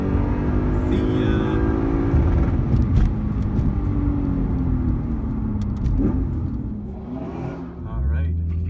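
Dodge Charger Scat Pack with a 6.1 liter Hemi SRT8 engine, a loud deep rumble revving and accelerating nearby, with people talking over it.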